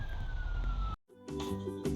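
Police car siren in the Crazy Police Chase video game, a steady wailing tone that cuts out abruptly, then returns with layered engine and siren sounds; no talk over it.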